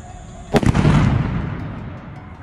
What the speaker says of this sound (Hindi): चलिए, तो इस बार बोतल फट गई